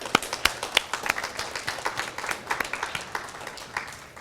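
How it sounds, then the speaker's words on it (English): An audience at a school recognition assembly gives scattered, modest clapping, with individual sharp claps standing out and slowly tapering off. "Let's give them a round of applause."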